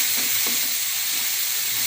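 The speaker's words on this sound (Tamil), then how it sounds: "இப்போ நம்ம தக்காளியை போட்டுக்கலாம். இதுவும் கொஞ்சம் வதங்கட்டும்." Tomatoes fry in a pan for a home-cooked chicken masala, thakkali rasam meal, giving a loud, continuous close sizzle with faint stirring underneath.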